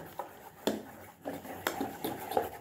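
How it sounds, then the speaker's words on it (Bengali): Moong dal dhokla batter mixed with Eno in a bowl, spoon knocking and scraping against the bowl in irregular close strokes, quiet and without talk. "ইনোটা দিয়ে এটাকে আরেকবার আমি ভালো করে মাখিয়ে নিচ্ছি, একদম মিশিয়ে নিচ্ছি।"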